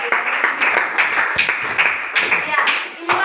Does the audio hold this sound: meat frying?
no